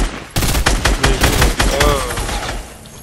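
Rapid bursts of gunfire from the video game Fortnite, loud and close, a dense fusillade of repeated shots with a brief tonal effect in the middle and little talk over it.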